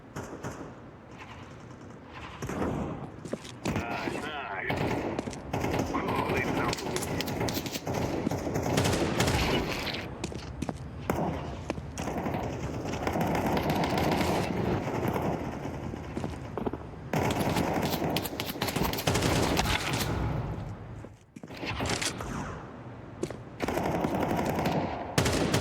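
Rapid bursts of gunfire from Counter-Strike 2 crackle almost continuously, loud and close, with dense automatic volleys and brief gaps between exchanges.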